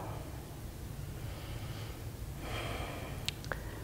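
Slow, deep breaths in and out during a held yoga stretch, soft and close against a steady background hiss, with a brief sharper intake near the end.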